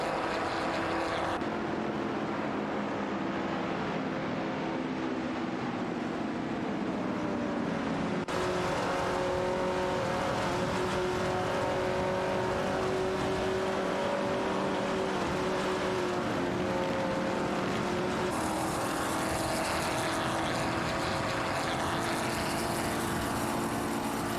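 Race cars running side by side in a racing video game, one a Chevrolet Chevelle SS70, give a steady, loud, continuous engine drone with shifting pitch, and no voices are heard.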